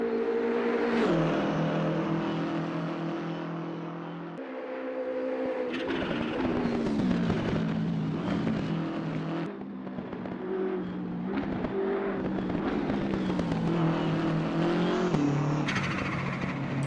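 BMW M6 racing car engine in Assetto Corsa Competizione, a continuous loud turbo engine note rising and falling through gear shifts, with turbo whooshes and pops, alone without talk.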